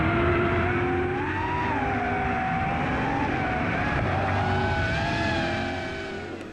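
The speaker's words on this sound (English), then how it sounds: "Chris Visser and Donnie Stassen, completed the qualifier just 1 second behind the Works Hilux in their own version of the same car." A Toyota Hilux race truck drives a Vaal 400 off-road rally qualifier with a steady, sustained engine drone that shifts pitch slightly as it holds speed, heard alone and fading near the end.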